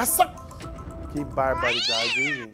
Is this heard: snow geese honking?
no